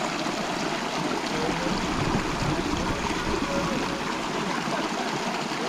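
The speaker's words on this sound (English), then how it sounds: "The boat ferry going in from Mexico to Texas." A ferry boat crossing the river between Mexico and Texas gives a steady wash of rushing, lapping water and engine churn, loud and continuous with no speech.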